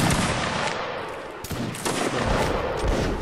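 A musket volley from a line of infantry in Mount and Blade Warband's Napoleonic Wars, a loud, dense, crackling roar of many shots fired together in a multiplayer line battle, sustained for a few seconds with no speech over it.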